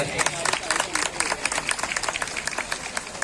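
An audience at a women's empowerment welcome event in Jambusar claps in scattered, uneven bursts, the hand claps sharp and close amid an announcer's voice and room chatter.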